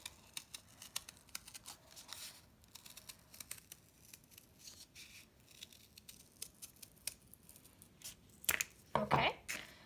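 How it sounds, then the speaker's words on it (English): Scissors cutting along a drawn line through thick cardboard for a papercraft heart, with sparse small snips and crinkles through most of the stretch, then a louder burst of several close, sharp cuts near the end. "I'm just going to take my scissors carefully, watching out for my fingers, and I'm going to start cutting along the line that I drew"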